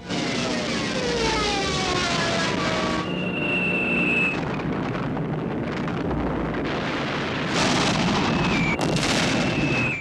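Bombing attack on Brest fortress, a loud continuous roar of aircraft engines and heavy blasts, with whistling tones and dense rumbling filling the whole stretch.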